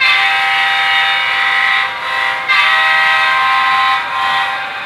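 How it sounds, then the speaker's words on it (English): A model train runs on a home layout with a loud, continuous whistle-like whine that holds steady for several seconds. The tone dips briefly twice, and no one talks over it. "David, let's run a train."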